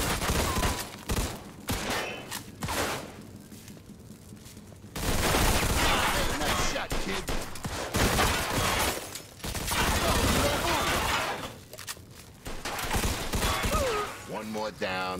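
Heavy gunfire in the Mafia 2 video game, with bursts of rapid shots and sustained volleys that come and go in loud waves, mixed with game audio.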